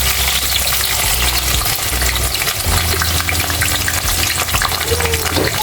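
Small onions fry in hot oil for mutton liver fry, giving a loud, steady, close sizzle with occasional stirring and no voices.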